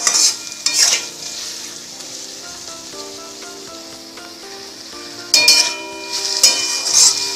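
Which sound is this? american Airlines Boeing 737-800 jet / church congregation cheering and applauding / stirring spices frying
stirring spices frying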